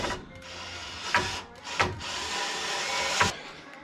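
Wooden shelf being fixed in place with screws, with three short scraping, grinding bursts against a steady rubbing drone, close and fairly loud, no talking.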